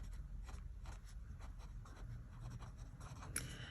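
A Kaweco Sport fountain pen with a double broad nib scratches across paper in short, quiet strokes, close and soft, repeating in an irregular writing rhythm with no talk.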